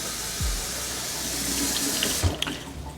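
Water from a tap pours steadily into a pot for taco salsa with onion, a continuous close splashing stream running for about three seconds with a brief knock near the start.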